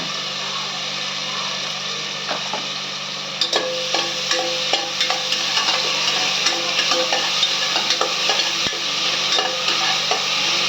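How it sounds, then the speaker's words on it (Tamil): Onions sizzling in two ladles of hot oil for tomato rice, a steady loud frying hiss with light stirring clatter, close and continuous. "எண்ணெய் காஞ்சிருச்சு இந்த வெங்காயத்தை போடுங்க"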